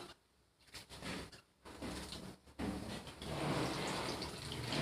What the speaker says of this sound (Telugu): ఎక్కువసేపు అయితే నీళ్ళలో నాననీయొద్దు. ఇలా కడిగి తీసేసుకోవాలా.